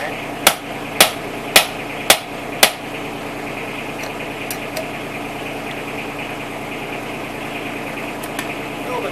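Five sharp metallic hammer blows land in a steady rhythm while working on a tire of a 1954 Gravely L tractor, over a running engine's hum, followed by a few lighter taps.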